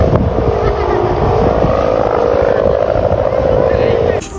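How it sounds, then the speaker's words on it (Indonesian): Javanese sendaren kite hummer made of curved bamboo and ribbon, giving a steady droning hum that holds for about four seconds against heavy wind rush. "Sendaren dari Jawa, terbuat dari bambu yang melengkung dan pita"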